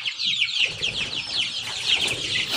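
A native fighting rooster clucks in a continuous run of short, rapid calls, close and fairly loud, with no one speaking.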